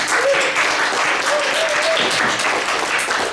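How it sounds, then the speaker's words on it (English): Steady audience applause at a GDS show-and-tell presentation, a dense, continuous wash of clapping filling the whole stretch with a faint voice briefly heard beneath it. "So round of applause."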